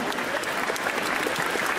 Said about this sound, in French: On peut l'applaudir pour ça parce qu'il faut y penser.